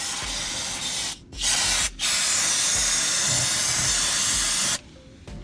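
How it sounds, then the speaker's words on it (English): Brake cleaner sprayed onto the engine of a 1.6L EcoBoost Ford Fiesta during an oil change: loud, close hissing bursts, a short one then two long sustained sprays separated by brief pauses. "Then we're going to clean all this off with some brake clean."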